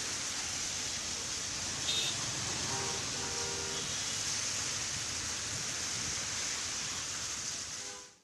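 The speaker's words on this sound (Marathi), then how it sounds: "पावसाची संततधार ही सतत सुरूच आहे" Heavy continuous rain falls in Mumbai's BKC area, where streets are waterlogged, making a dense, steady hiss that holds evenly for eight seconds before fading out, with no talking.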